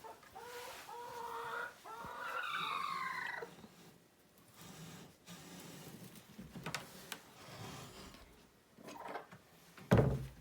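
A hen named Molly clucks in a nest while laying eggs, with several close, distinct clucks and squawks followed by quieter rustling and a sharp sound near the end.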